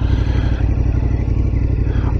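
A 2023 KTM 1290 Super Adventure S engine runs steadily, a loud, throbbing V-twin idle with a pulsing low rumble and faint mechanical clatter, heard up close.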